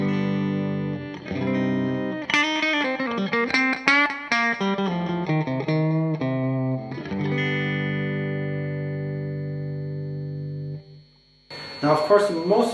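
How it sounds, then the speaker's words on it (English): Electric guitar through a TC Electronic Hypergravity compressor with the attack turned way up, playing a clean sustained melodic phrase with bends and long ringing notes, then a short burst of brighter strummed chords at the end. "that compressor on my setup is the TC Electronics Hypergravity, and I have cranked the attack way up"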